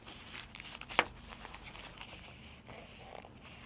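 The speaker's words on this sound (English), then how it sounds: "Open it in this way, and you will find we packaged it with oil papers." Oil paper wrapping crinkles and rustles up close as a parcel holding a fuel injector valve assembly is opened, a continuous soft crackle with one sharper crunch.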